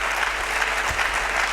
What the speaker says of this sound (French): Acclamons très fort pour le Papa